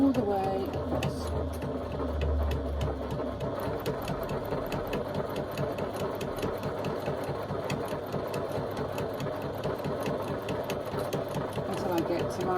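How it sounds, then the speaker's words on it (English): Sewing machine stitching across fabric at a shortened stitch length, a steady close mechanical whir with rapid rhythmic needle clatter running the whole time while a person talks over it. "Let me just shorten my stitch length a little bit. And I'm stitching all the way across."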